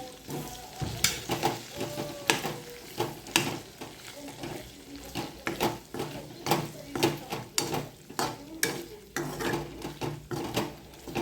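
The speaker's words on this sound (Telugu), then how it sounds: "1 స్పూన్ అల్లం వెల్లుల్లిపాయ పేస్ట్ ఫ్రెష్గా దంచుకున్నదే ఫ్రై చేసుకోవాలి." Chicken frying in a pan with a spoonful of freshly pounded ginger garlic paste, a steady close sizzle broken by repeated stirring scrapes and clinks of a utensil against the pot.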